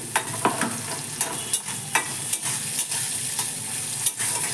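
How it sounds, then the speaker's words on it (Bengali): Marinated chicken fries in mustard oil with a fenugreek tempering, giving a steady close sizzle. Frequent sharp scrapes and knocks of a stirring spoon against the pan punctuate it, with no voices. "আর এইভাবে মেথি ফোড়ন দিলে কি হয়"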